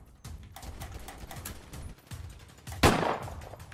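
Gunfire in GTA roleplay, a run of sharp shots through the first seconds, then a louder, close burst near the end, with no talk over it.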